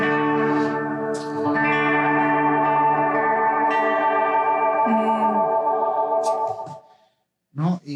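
Sustained harmonic tones run through echo and chorus effects, producing a layered, shimmering, slightly sung-sounding wash that holds steady for about seven seconds before cutting off, followed by a couple of short processed bursts.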